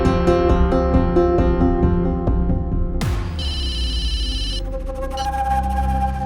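A phone rings with an incoming call, a repeating electronic ringtone with a melodic pattern that changes partway through, loud and close with no speech, in a Hindi crime drama scene.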